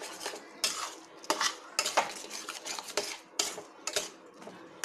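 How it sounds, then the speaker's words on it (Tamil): Spoon scraping and clanking against a pan as a yogurt gravy is stirred, close, in irregular repeated bursts of metallic scraping. "ஒரு 10 நிமிஷம் அப்படியே கிளறி விட்டுடலாம்"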